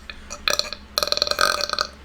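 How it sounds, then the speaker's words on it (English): A solid, drawn-out human burp rumbles close and fairly loud in two stretches, the second longer and pulsing, with no talk over it. "It was a good burp."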